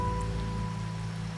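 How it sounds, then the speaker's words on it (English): Steady rain falls in the video game Wuthering Waves on a rainy night, a constant soft wash of drops with a low continuous hum running beneath it, no voices present. "The rain's back."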